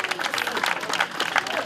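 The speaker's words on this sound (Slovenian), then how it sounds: "Šolski center Ravne, dajmo en aplavz še njim." Audience at a press conference and event in Ravne, Slovenia, applauding as a school centre is acknowledged; a dense, steady wash of many hands clapping, fairly close, with some voices mixed in.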